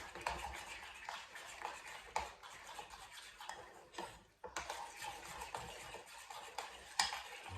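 A spoon scraping and clicking around a bowl while mixing a thick batter for homemade sea bream fritters, steady repeated close taps and scrapes with a brief pause midway.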